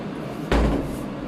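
A kitchen cupboard door knocks once as a plate is taken out during breakfast preparation. The single sharp knock is close and rings briefly, with no talking.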